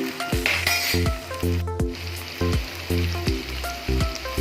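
Onion and garlic frying in hot tempering oil for a monsoon leafy bitter lablab bean dish, with a steady close sizzle under repeated sharp metallic clinks of a spoon against the pan.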